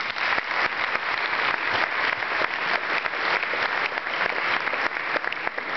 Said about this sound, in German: Herzlich willkommen, Herr Runko, und Ihr Applaus.